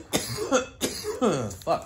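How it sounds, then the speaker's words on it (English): Several harsh coughs come in a close fit from one nearby person, mixed with throat sounds and a muttered word. "I'm going to take some water before I cough my head off because I can feel it coming on."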